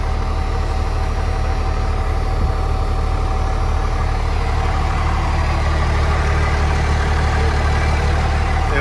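A 1997 Dodge Ram with a 12-valve Cummins diesel idles steadily, a loud, even low rumble with a smooth, unbroken rhythm and no voices.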